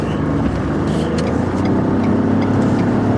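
A 2017 Ford F-150 with the second-generation 3.5 EcoBoost engine and 10-speed transmission drives a lap, producing a loud, steady engine and road drone from inside that continues without a break.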